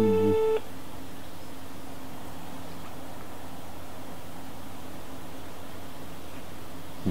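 An outgoing phone call makes a short tone at the start, then a long steady line tone runs over a hum of background noise. No one speaks.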